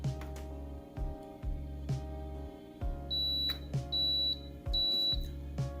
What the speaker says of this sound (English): So that's how you know that it's reset to the factory default. You hear 3 beeps.